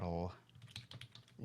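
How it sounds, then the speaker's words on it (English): Quick light clicks of typing on a computer keyboard, a short run of keystrokes heard close, with a person's speaking voice just before and after. "I'm good at typing."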